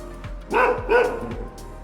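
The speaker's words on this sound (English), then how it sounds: "Winding up the dog." Two quick, close barks come from an agitated dog in a Bangkok alleyway being wound up by a passer-by, with quieter street noise underneath.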